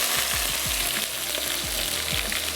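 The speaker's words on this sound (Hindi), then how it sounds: "उसकी थोड़ी सी भुनाई कर लेंगे" A spiced mixture with coriander powder sizzles and fries in a pan, a loud steady crackle with a few soft scraping stirs, close up.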